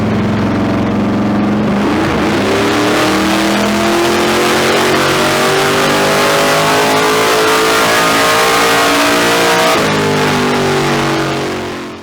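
A carbureted car engine with a Holley carb revs hard on a dyno during a baseline pull, a loud sustained rising roar that climbs steadily, dips briefly near the end, then winds back up before cutting off.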